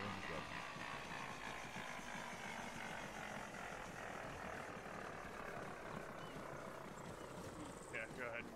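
A helicopter in the Arma 3 video game idles with a steady rotor and engine drone, loud and constant throughout, while faint voices talk beneath it.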